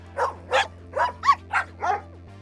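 Dogs in a video game bark six times in a quick, evenly spaced series, each bark clear and mid-loud over a steady low electronic hum.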